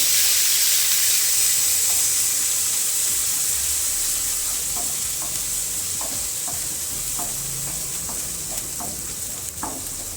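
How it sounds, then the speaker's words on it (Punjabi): Ginger and garlic paste sizzling as it roasts in a pan, a steady bright hiss with occasional soft stirring scrapes, close and continuous with no talking. "ਅਦਕਰ ਲਸਣ ਭੁੰਨ ਹੋ ਗਿਆ"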